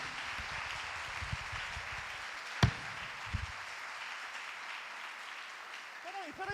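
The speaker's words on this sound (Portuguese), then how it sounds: "As palmas estão diminuindo." A church congregation applauding during a sermon, a thin, sparse clapping texture that stays low and steady, with one sharp knock and faint room noise on top.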